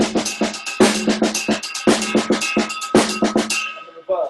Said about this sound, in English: So here's a regular paradiddle.